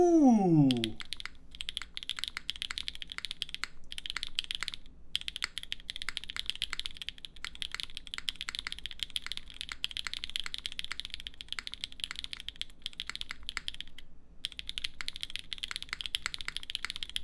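Rapid, crisp keystrokes clatter on a Cerakoted Keycult 2/65 mechanical keyboard with lubed Staebies stabilizers, fast bursts of close typing separated by brief pauses, after an opening boing-like tone.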